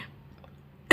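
A woman with a cold coughs once, a short loud burst at the very end after near silence.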